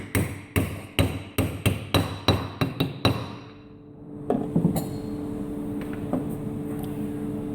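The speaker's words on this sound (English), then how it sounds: "with the seal installing tool, tap the seal into place firmly." A pump seal is tapped into place with a seal installing tool: a run of about a dozen sharp metallic knocks in quick rhythm, then quieter scattered clinks and handling over a low hum.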